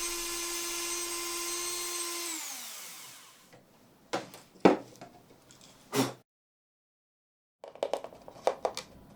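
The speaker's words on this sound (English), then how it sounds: "I also ground out a couple of recesses" A small rotary tool grinds recesses into a Cyberman head, its high motor whine winding down, then brief close bursts of grinding against the material separated by pauses, with short silent gaps.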